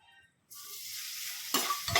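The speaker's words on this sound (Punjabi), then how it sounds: "ਚਲੋ ਜੀ ਹੁਣ ਇਹਨੂੰ ਮਿਕਸ ਕਰ ਲਾਂਗੇ ਆਪਾਂ ਤੇ ਵਿੱਚ ਪਾਵਾਂਗੇ ਆਲੂ" After a short quiet moment, a strong hiss of frying starts and holds steady, then louder scraping stirs boiled potatoes in a pan near the end.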